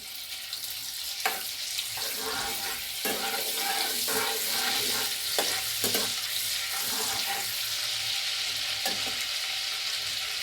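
Butter sizzles in a pan for a wedding-style cauliflower korma, a steady close frying hiss with scattered pops and light scraping of a stirring spoon, and no voices.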